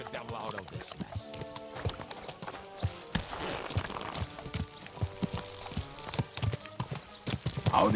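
Horse hooves clip-clop steadily in Kingdom Come Deliverance 2, a medieval game, mixed with busy game sounds, music and speech around them.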